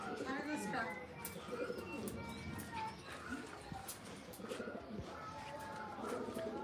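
Pigeons coo softly amid a busy background of chirps, rustling and distant voices, with a faint murmur of talk.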